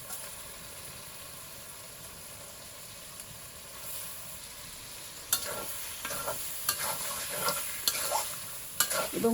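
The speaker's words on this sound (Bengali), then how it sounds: "এবং মাংসটা খুব ভালো করে কষিয়ে নিতে হবে" Beef being fried and stirred in a pan for a taro and beef curry: a low sizzle at first, then louder scraping strokes and clinks of a spoon against the pan from midway on.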